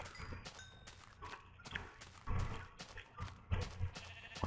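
Sheep bleating in the Minecraft Tekkit video game, several short bleats among footsteps and game sounds, with no one talking.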